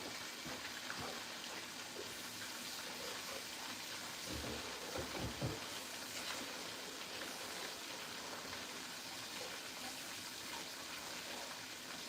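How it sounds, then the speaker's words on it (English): Hands rinsed under a running kitchen tap after working with cornmeal, a steady broadband wash of flowing water through the whole stretch with a brief louder splash midway, no talking. "and rinse our hands."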